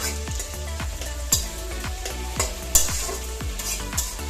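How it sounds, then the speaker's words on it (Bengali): Tomatoes fry in a pan with a constant sizzle, while a utensil stirs and scrapes in regular strokes about every half second, close up. "টমেটোটা ভালো করে যতক্ষণ একটু গলে গলে আসছে ততক্ষণ এটাকে একটু ভাজা ভাজা করে নেবো"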